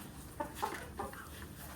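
Desi chickens on a rooftop farm give a few soft clucks at moderate distance, short scattered calls over a steady background hiss.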